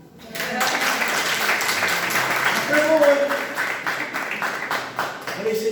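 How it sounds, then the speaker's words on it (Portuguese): Church congregation applauding a speaker during a service, a steady wash of many hands clapping with a voice talking over it throughout. "Salva de palmas para ele"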